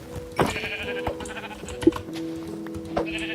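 Sheep in the Minecraft video game bleat in a flock, several short bleats spaced across a few seconds over a steady ambient background.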